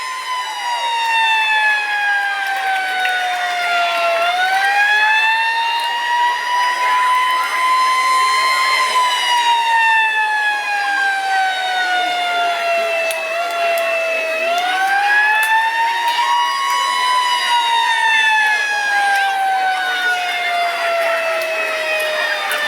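A loud wailing siren rises and falls in long sweeping cycles at a high school football game after a touchdown, sounding continuously over a cheering crowd in an outdoor stadium.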